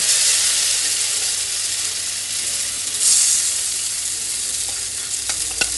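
Dosa batter sizzling in ghee on a hot pan, a loud, steady broadband hiss with a brief surge midway and a few faint clicks toward the end, heard up close with no voices.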